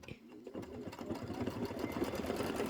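A sewing machine runs a quick satin stitch on a glitter-nosed reindeer tote bag, its fast needle chatter rising slightly and holding steady for a few seconds, close and fairly quiet with no talking.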